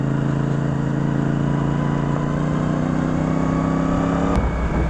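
CFMoto CL-C motorcycle engine running steadily up close, its pitch holding then dropping sharply near the end as the rider shifts down on a long ride.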